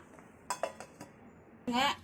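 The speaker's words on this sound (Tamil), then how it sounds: "மூடி போட்டு வச்சுக்கலாம்." A lid is set onto a vessel of meal maker soya chunks soaking in hot water in a home kitchen, giving a few light metallic clinks followed by a short louder clatter, close by with no talk.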